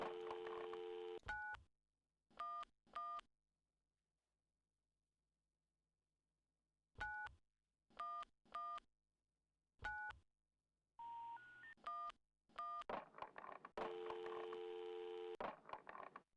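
Telephone keypad tones from a phone booth in the game Hypnospace Outlaw: clean, separate beeps in two spaced groups, with short stretches of line noise between and at the end.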